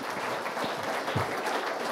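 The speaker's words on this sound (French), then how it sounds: "une bonne main d'applaudissement, s'il vous plaît, pour Katia." Steady applause from a crowd, dense clapping filling the whole stretch at an even, moderate loudness with no voices on top.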